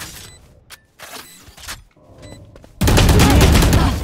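Gunfire in the shooter game Valorant: a sudden loud burst of rapid shots erupts after quieter clicks and light sounds, filling the last second close and intense.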